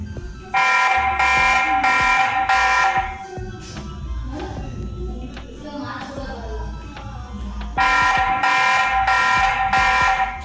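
A TP-Link VIGI C440 security camera alarm sounds loudly up close as repeated pulsing harsh buzzer tones. The tones stop in the middle and resume near the end, with someone talking over the quieter gap.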